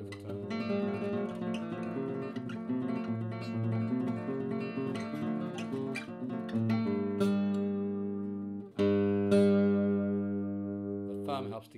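Antonio Hermosa AH 20 solid-top classical guitar played alone, sustained plucked notes and ringing chords with clear decays, a brief pause then a strong strummed chord ringing out.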